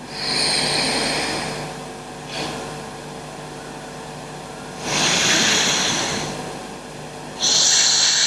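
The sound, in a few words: breathing out through one nostril, alternate nostril breathing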